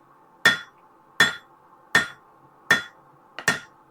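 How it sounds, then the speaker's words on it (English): Hammer striking steel while an axe is forged: five sharp, ringing blows at an even pace about three quarters of a second apart, close and clear, the last one doubled. "I don't want this hammer. I want this hammer."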